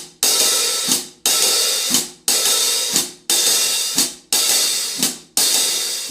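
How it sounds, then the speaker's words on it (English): A jazz ride pattern played on hi-hat cymbals, with the foot pedal closing them on beats 2 and 4: a bright washy cymbal sustain cut off by a crisp chick six times in an even swinging cycle, alone. "And now it's pretty customary to also close the hi-hat with the foot on beats 2 and 4."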